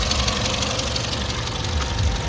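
A 2015 Tata Zest XM car engine idles smoothly, giving a steady low rumble with a faint mechanical ticking throughout and no voices.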